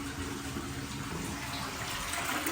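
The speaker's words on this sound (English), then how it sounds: "We'll give that a flush." Water flushing down a kitchen sink waste pipe after core drilling, a steady close rushing and gurgling flow lasting the whole short stretch, quiet and without voices.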